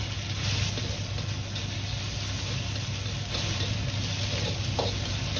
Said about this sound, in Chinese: 再关小火，下入腌好的瘦肉翻炒